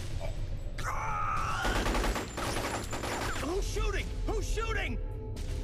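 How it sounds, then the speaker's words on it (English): Gunfire in the video game Metal Gear Solid: Portable Ops, with several shots and bursts of fire amid game sound effects and characters talking over them. "Who's shooting? The bastard shot him."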